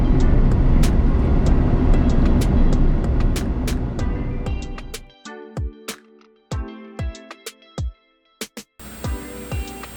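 Cars drive past on a street by a beach house in Mexico, a loud, close rumble that holds for several seconds, then fades into quiet broken by sharp clicks.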